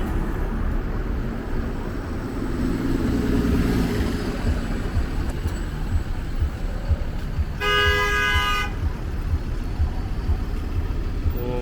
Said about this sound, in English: what is with all the honking here?